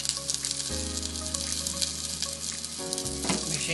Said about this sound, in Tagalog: Gisa ka lang ng bawang sibuyas.